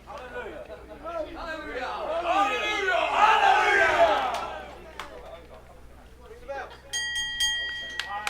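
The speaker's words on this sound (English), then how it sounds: "As we wait to hear the opening bell." A crowd at a live wrestling show roars and cheers in a swelling wave, then a bright bell rings several quick times near the end over lingering crowd noise.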